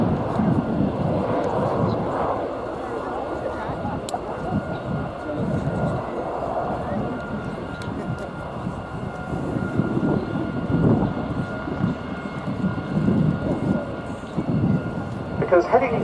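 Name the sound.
RAF Short Tucano T1 aircraft taking off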